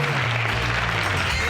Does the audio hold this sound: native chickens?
no